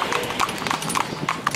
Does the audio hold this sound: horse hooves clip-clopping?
yes